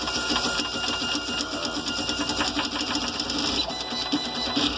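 A GARCAD 3D printer with a 0.35 mm nozzle runs at 400 mm/s with 16 m/s² acceleration, giving a loud, continuous, rapid whirring of stepper motors with quick buzzing direction changes, close and alone.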